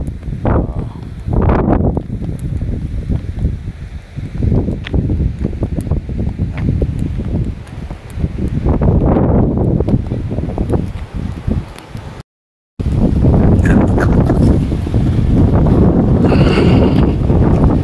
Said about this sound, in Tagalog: Pero hindi mo masyadong maramdaman yung pagod dahil sobrang lakas ng hangin.